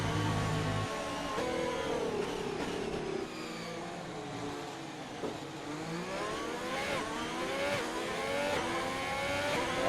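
F1 car engines whine and rise and fall in pitch as the safety car period ends in a racing video game, several cars layered in a continuous high-pitched drone.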